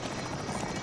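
A helicopter in the video game Call of Duty Warzone churns steadily with a dense, rumbling rotor roar, loud and close, with no talk over it.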